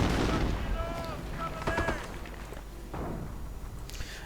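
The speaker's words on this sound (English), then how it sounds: "Grenadiers on a heavy fire from the Sherman, trying to get it with a Panzerschreck" Gunfire from a WWII strategy game battle, with a Sherman tank firing on grenadiers who answer with a Panzerschreck anti-tank launcher. Bursts of shots and booms come early and fade to a duller rumble, with a voice talking throughout.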